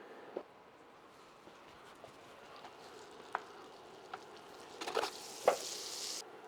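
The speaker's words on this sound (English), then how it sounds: "A couple tablespoons of olive oil and a couple tablespoons of butter. And we'll let that heat up until it's kind of getting foamy." Olive oil and butter heating together in a pan for a Bolognese, a low steady sizzle with scattered small pops and crackles that grow a bit livelier toward the end, close and quiet, with no talk.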